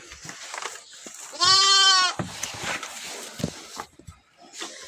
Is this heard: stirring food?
no